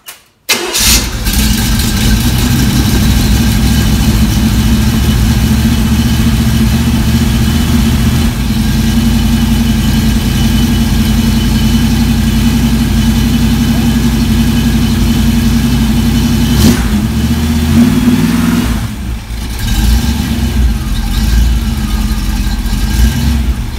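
A car engine fitted with test mufflers and modified block hugger headers catches and settles into a loud, close, steady idle, with a short rise and dip in revs near the end.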